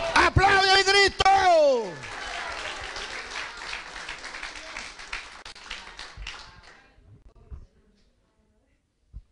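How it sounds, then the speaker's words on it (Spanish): A church congregation breaks into loud, dense clapping during a religious testimony. The applause swells right after a shouted voice, holds for several seconds, then thins and fades out. "¡Aplaude a mi Cristo!"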